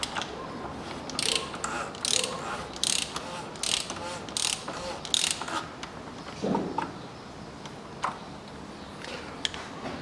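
A torque wrench ratchets while tightening to 35 Nm during an oil change on a 2022 Hyundai Palisade 3.5, giving a close series of crisp metallic clicks in short bursts.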